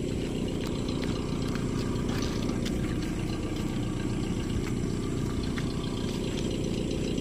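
A tractor engine runs steadily nearby on a quiet road at night, a continuous low rumble with faint rattling and no speech.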